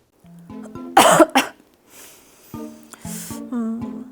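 A few sharp, close coughs in quick succession, with throat-clearing and vocal rasps around them, then a couple more coughs toward the end.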